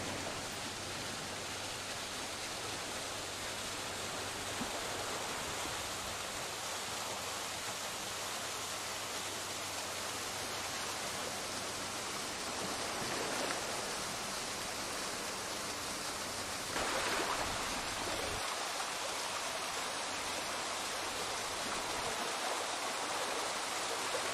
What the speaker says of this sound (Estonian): Veekohin annab teada, et oletegi kohale jõudnud.